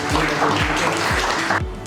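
A hall audience at a Hindi literary gathering for a novel applauds in a dense, steady wash of clapping that fills the whole stretch, with a faint voice beneath and the clapping thinning near the end.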